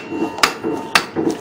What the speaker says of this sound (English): Just hammer it back on